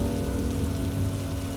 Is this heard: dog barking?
no